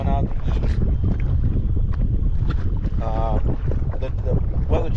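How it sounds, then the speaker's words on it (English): A strong east wind blowing across a fishing boat on open water roars steadily and loudly into the microphone, with a voice talking faintly underneath. "This wind's been blowing out the east."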